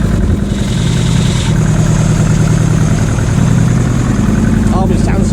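A Nissan Pulsar GTiR engine idles just after a cold start, a loud, steady, close-up low rumble with a faint whine, and voices murmur over it.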